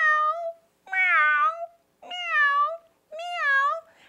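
A human voice imitating a cat's meow, four drawn-out, sing-song mews in a steady rhythm with brief gaps, clear and close, performed for a children's puppet and song show.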